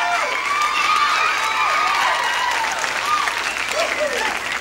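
Studio audience applause on The Price is Right game show, sustained loud clapping with cheers and whoops rising over it, filling the whole stretch.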